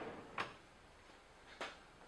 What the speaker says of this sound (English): With this drawer runner design, the opening and shutting is as fast as you operate it.